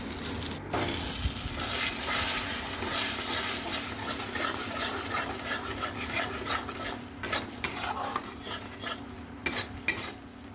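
Yardlong beans being ground into a paste with sweetener, jaggery and salt, a continuous close scraping and rasping of the grinding, steady and busy with occasional sharper knocks, and no talking.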